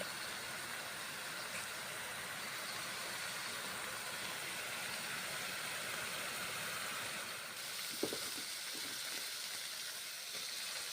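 Gobindobhog rice is fried with spices in a pan, giving a faint, steady sizzling hiss with a small clatter near the end. No voice is heard.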